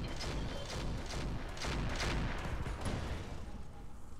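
A volley of weapons fire in the BattleTech mod Roguetech, a cluster of heavy, rumbling thuds and blasts rolling together over a few seconds, muffled and moderately distant.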